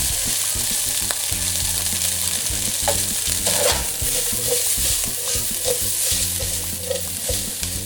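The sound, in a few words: Spam frying and sizzling in pan for fried rice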